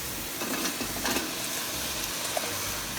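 Onion sautéing in a pan for zucchini and spinach soup gives a steady, close, even sizzle of frying with faint stirring, no voices.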